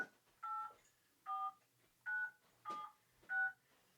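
A phone dials, sending five separate touch-tone beeps at an even pace, close and clear with quiet gaps between them.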